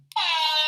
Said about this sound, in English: Oh wait, you don't have the air horn.